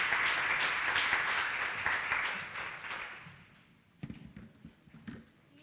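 An audience gives a strong round of applause at a talk, the clapping loud and sustained for about three seconds before fading out, followed by a few scattered louder claps and faint voices.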